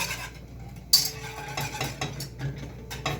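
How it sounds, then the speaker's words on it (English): A spoon scrapes and clinks against a pot while a mixture is stirred vigorously, with irregular soft scraping strokes and one sharper clink near the start, close and fairly quiet. "I'm going to stir it like crazy"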